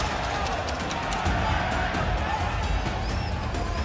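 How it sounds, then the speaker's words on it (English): Loud arena crowd at a middleweight championship boxing bout in New York City, a dense continuous roar of voices and cheering filling the whole stretch with steady intensity. "the crowd is so loud"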